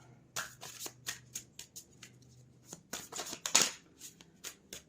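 Tarot cards being handled and drawn, a string of quick, close papery flicks and slides, sharp and fairly quiet, with one louder swipe near the end.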